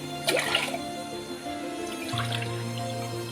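Water running and splashing into a pressure cooker, a steady pour with a brief louder gush near the start, a low hum beneath.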